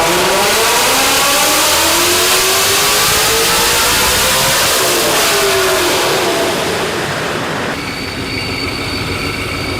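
Procharger-supercharged Ford Mustang S650 on a chassis dyno pull, its engine screaming loud and close as the pitch climbs steadily through the gears, then dropping off into a lower drone as the run ends.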